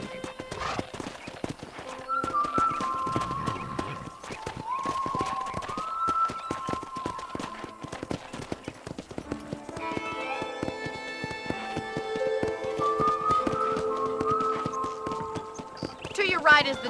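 Horse hooves clip-clop at a steady trot in the Western video game Red Dead Redemption, continuous throughout with an occasional neigh, beneath game music and a voice talking.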